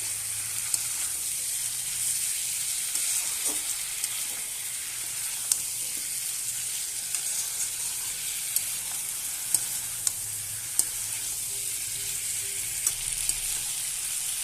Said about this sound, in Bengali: এবার ভালোভাবে কষাতে হবে আলু আর কাঁচা কলা।